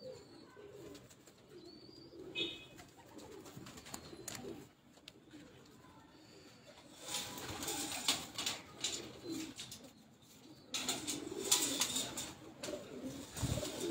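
Rampuri pigeons coo on a rooftop loft, a steady low murmur of calls running throughout with occasional wing flutters and louder bursts of activity toward the end.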